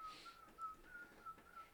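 A person whistles a thin, high tune in short phrases. It sounds faint and somewhat distant over a quiet room background, with no talking.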